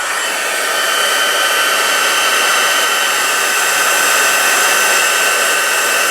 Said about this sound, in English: Now we're going to turn the heat tool on again because we want to dry that.